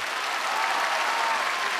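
Audience applause rings out on a song-gala stage as a singer finishes, a dense, steady wash of clapping from a crowd that holds evenly for under two seconds.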